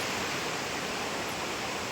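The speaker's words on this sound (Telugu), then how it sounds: "అలలు వస్తున్నాయి" Waves at Murdeshwar beach make a constant hissing roar of surf, even and close throughout, a smooth rushing wash with no other sounds on top.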